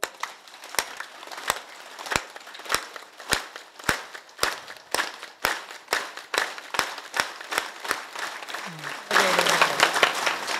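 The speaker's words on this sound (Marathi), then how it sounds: "आज हात आहेत टाळ्या वाजून घ्या" A kirtan audience in Nanded claps along in unison, sharp, evenly spaced claps roughly twice per second over about nine seconds, close and loud, then breaking into a denser burst of scattered applause with a voice underneath at the end.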